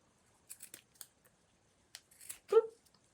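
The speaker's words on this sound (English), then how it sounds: "I really need to sharpen these scissors." Scissors snip through fabric while a shirt is being cut up, giving a few quiet, crisp cuts followed by a louder, fuller snip near the end.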